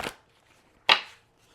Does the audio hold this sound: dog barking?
no